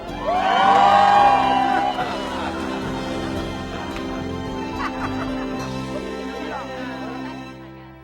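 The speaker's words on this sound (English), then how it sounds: "cheer louder if you're having fun" A chapel congregation at Unity Village cheers and whoops loudly, the burst peaking early with high excited voices, then fading into a lower murmur of crowd noise and scattered shouts.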